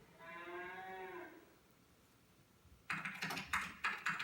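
A single cow moos on a cattle farm, one long drawn-out call lasting about a second, followed after a quiet gap by a run of sharp clicking and tapping sounds.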